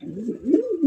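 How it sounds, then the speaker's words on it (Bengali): Pigeons at a pigeon breeding farm coo in a steady, close, low throaty murmur that swells and overlaps for about a second, with no talk. "প্রচুর পরিমাণে কবুতর আছে"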